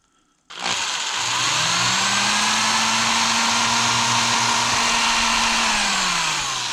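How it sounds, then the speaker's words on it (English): A power drill starts abruptly and whines at a steady high pitch for several seconds while drilling through a muskie fishing lure, then begins to wind down; no talking. "And then we're going to drill through and through."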